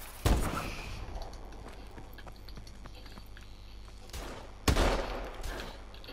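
Gunfire in Call of Duty: Advanced Warfare, with two sharp, loud shot bursts near the start and again around four and a half seconds, separated by quieter game ambience and scattered clicks.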